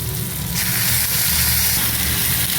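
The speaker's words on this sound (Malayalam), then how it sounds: "ഇപ്പോൾ ഈ ബ്രിഞ്ചാൾ ഇതിനകത്തിട്ട് നന്നായിട്ട് വഴറ്റുക" Chopped eggplant sizzles steadily in a hot pan as it is sautéed with softened tomato, a continuous loud frying hiss with faint stirring scrapes and no talking.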